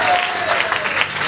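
A church congregation claps steadily in a dense burst of applause during a prayer gathering, with a brief tone briefly audible underneath.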